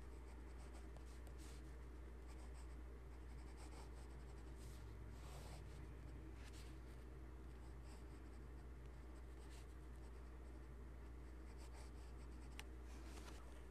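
A fountain pen scratches across paper in short, continuous strokes, quiet and close, with faint rubbing and small taps as the nib lifts and moves over the page, under a low steady background hum.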